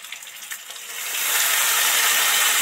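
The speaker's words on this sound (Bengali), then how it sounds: "এবার এর মধ্যে অল্প পরিমাণে জল অ্যাড করব।" A little water is poured into shukto vegetables and spices in a hot pan: a light hiss at first, then a loud, steady sizzling rush that swells and holds close by.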